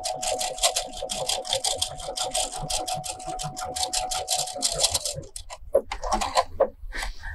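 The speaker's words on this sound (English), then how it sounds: "My machine is stitching sideways." A Brother sewing machine runs a decorative curly stitch in a steady, rapid mechanical chatter with a continuous hum for about five seconds, then stops, leaving a few scattered clicks and handling noises.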